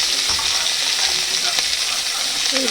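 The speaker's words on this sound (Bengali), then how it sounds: "এবার লাস্ট আমি বিনসগুলো ভাজবো" Continuous crackling sizzle of beans frying in hot oil, close up, with light stirring and scraping sounds throughout.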